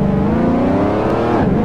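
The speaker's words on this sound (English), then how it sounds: "I want to show you how this truck shifts." Dodge Ram 3500 pickup engine in Car Mechanic Simulator 2018 at an abandoned airport, a loud steady harmonic drone that climbs in pitch and then drops sharply near the end as a gear shifts, with no talking.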